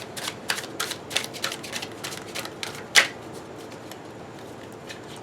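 A run of quick papery riffles and flicks as tarot cards are shuffled close by, ending in a sharper tap, then quiet.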